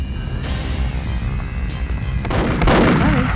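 Gunfire in the N64 video game Perfect Dark on the Extraction level, dense bursts of shots over a continuous loud battle din, growing louder and busier toward the end.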